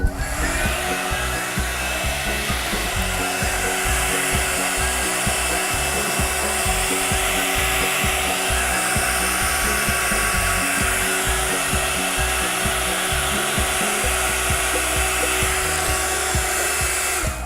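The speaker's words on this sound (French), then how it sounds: "Alors moi, c'est mon sèche-cheveux de bricolage, il ne sert plus qu'à ça. C'est très pratique quand on a envie d'accélérer les temps de séchage de peinture et de colle." A hair dryer blows continuously on high, drying paint and glue on a DIY Halloween jar craft, with a loud steady whirring roar that runs unbroken and close throughout, with no talking.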